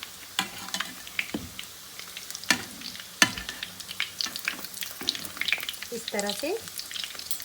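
Potato donuts fry in hot oil with a soft crackling sizzle, punctuated by sharp scrapes and taps of a utensil as they are turned. A voice speaks briefly.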